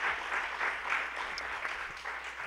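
An audience at a civic forum gives a round of applause for the panelists, a dense steady patter of clapping that fills the short moment at moderate level.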